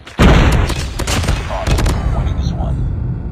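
Sustained automatic gunfire from a deployed sentry gun in the mobile shooter Call of Duty Mobile, a dense loud rattle of rapid bursts running the whole way with game voice callouts over it.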